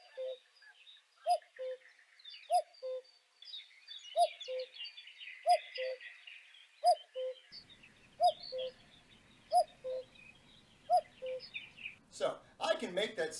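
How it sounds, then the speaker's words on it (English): A recorded cuckoo calls its repeated two-note cry at a steady, even pace, with fainter birdsong in the background and a brief burst of noise at the end. "I thought I might play you a recording of an actual cuckoo bird"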